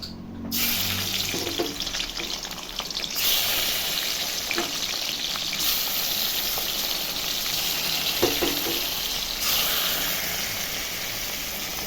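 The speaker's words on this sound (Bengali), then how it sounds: "ধুয়ে নিয়ে এখন ভাজে নেব মাছগুলো একে একে" Rohu fish pieces rubbed with turmeric and salt frying one by one in hot oil, a steady dense sizzle running throughout with a few brief clinks and bumps, loud and close, no talking.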